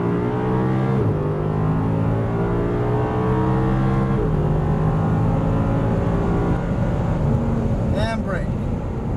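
Audi R8 engine on a race track, loud close in-cabin roar as the car accelerates, pitch climbing through gear shifts with brief dips, steady and dominant throughout.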